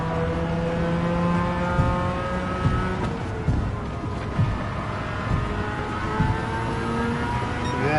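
A race car in Gran Turismo 7 holds a steady, loud engine drone with shifting pitch through corners, punctuated by brief gear-change blips, while another car runs close by on track.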